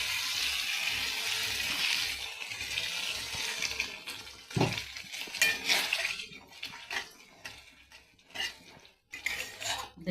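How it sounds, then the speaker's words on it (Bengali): Water splashes into a pan of fried spice masala for a fish curry, an uneven run of pouring and sizzling bursts with clinks of a utensil against the pan, close and moderately loud. "এখন আমি পরিমাণ মতন জল দিয়ে দেবো।"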